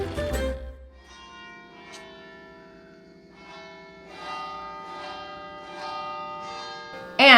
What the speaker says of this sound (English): And just in time, the bells are just about to finish.